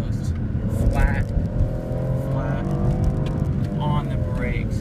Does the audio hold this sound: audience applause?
no